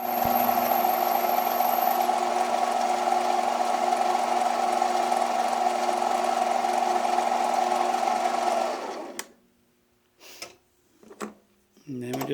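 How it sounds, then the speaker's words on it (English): A lathe fitted with a combination parting and shaping tool hums steadily as it parts off a piece. The loud, even drone runs for about nine seconds, then stops abruptly, followed by a few brief knocks and clatters. "we made this a combination parting tool and shaping tool, so it'll part off one piece right there"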